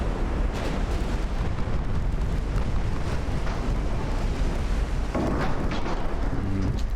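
Battle sounds from the Ultimate Admiral Dreadnoughts naval video game, with 18-inch shells exploding amid a dense, loud rumble of booms and bursts that continues without pause across the whole stretch.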